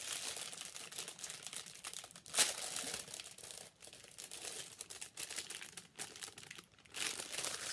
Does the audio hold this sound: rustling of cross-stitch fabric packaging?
yes